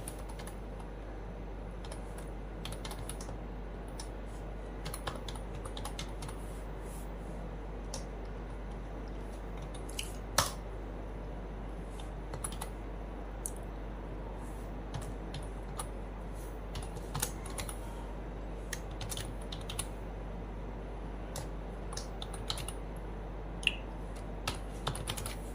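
Typing on a computer keyboard while entering Python code: a steady run of light, close key clicks with occasional sharper taps over a low constant hum, and no speech.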